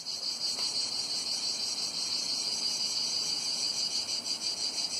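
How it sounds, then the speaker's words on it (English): Summer cicadas buzz in a dense, continuous high-pitched drone that holds steady and loud throughout, with no other sounds. "Cicadas!"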